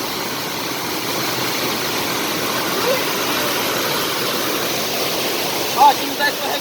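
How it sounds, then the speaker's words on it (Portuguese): A waterfall at Cachoeira do Lucas in Primavera do Leste, Mato Grosso, gives a steady broadband rushing roar with a brief higher chirp near the end. "Gente, eu tô pertinho da cachoeira, ó."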